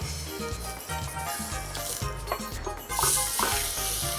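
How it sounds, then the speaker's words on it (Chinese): Pork skin sears in hot oil in a pan, giving a steady, loud sizzle and crackle with occasional stirring scrapes, growing briefly louder near the end. "我们这样子把猪皮的部分先把它煎定型就可以了"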